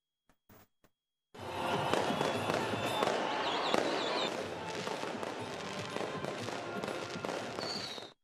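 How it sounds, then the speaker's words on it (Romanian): Fireworks launched at a Christmas tree inauguration in Bethlehem: a dense, sustained barrage of bangs and crackles bursts in after brief isolated pops and continues loudly to the end. "Iar la Bethlehem, pomul de Crăciun a fost inaugurat cu focuri de artificii."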